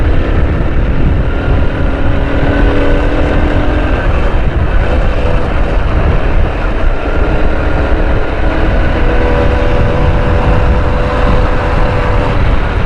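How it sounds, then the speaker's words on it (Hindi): A motorcycle speeds up on a hot city road in Karachi toward Sea View, its engine a steady, close drone mixed with wind and surrounding traffic hum throughout. "अभी मुझे थोड़ी सी मोटरसाइकिल की स्पीड बढ़ानी पड़ेगी"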